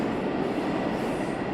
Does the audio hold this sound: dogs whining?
no